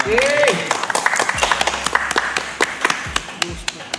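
Quick, sharp hand claps ring out during a talk-show style livestream, loud and close, with overlapping voices and brief musical tones around them.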